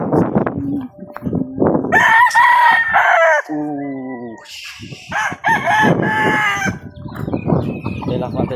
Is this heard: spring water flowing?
no